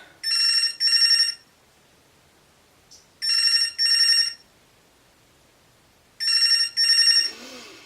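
A telephone rings in a quiet room, three repeated double-burst rings evenly spaced a couple of seconds apart, loud, near and alone.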